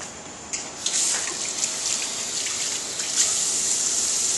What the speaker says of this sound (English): so I'm just going to do a quick rinse here.